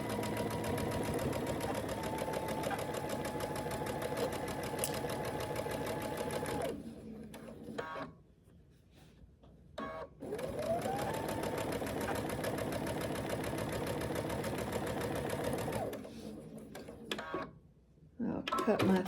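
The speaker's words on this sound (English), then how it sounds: "Then I'm going to sew a 1/4 inch again." Sewing machine running steadily while stitching a quarter-inch seam on a sawtooth star quilt block, a loud mechanical whir that stops briefly twice and then resumes.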